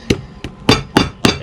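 A hammer strikes a punch tool into the sole of a Viberg boot during a resole, five sharp, close knocks at an uneven pace.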